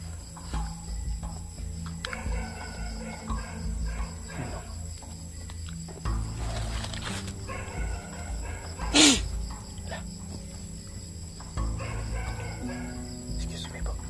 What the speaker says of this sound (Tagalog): mga alaga siguro yung mga aso na yan